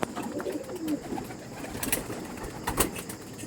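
Pure Chennai-breed pigeons in a loft, cooing softly with scattered wing flutters and a few sharper calls at close range, with no talk.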